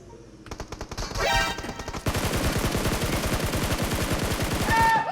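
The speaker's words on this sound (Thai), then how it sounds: "ยิงกันรัวๆ" Rapid automatic gunfire from a Groza rifle in a busy shooter video game, with dense rhythmic bursts that grow almost continuous and stay loud throughout.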